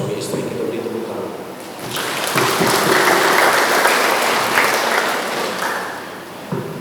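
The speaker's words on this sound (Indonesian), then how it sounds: "Kita beri tepuk tangan." Applause swells from a gathered crowd at a wedding ceremony, starting under talk and building into a fuller, louder wash of clapping in the middle before easing slightly toward the end.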